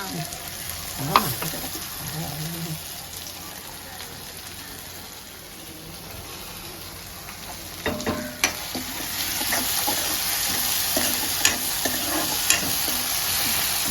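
Spices pop and crackle in hot oil with a steady sizzle while tempering for sundakkai kara kulambu, punctuated by sharper snaps and a few stirring clinks, close and fairly loud.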